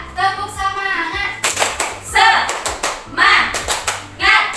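A group of schoolchildren does a rhythmic tepuk semangat clapping cheer in a classroom, with loud, patterned bursts of hand claps and chanted voices repeating in sequence.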